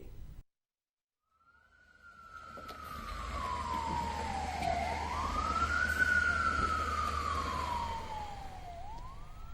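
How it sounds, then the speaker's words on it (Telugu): Air raid siren wailing across Israel during an Iranian missile attack, a single distant tone rising and falling in long slow sweeps over low rumbling background after a brief silence. "ఇరాన్ క్షిపణుల రాకతో ఇజ్రాయెల్ వ్యాప్తంగా సైరన్లు మారుమోగాయి"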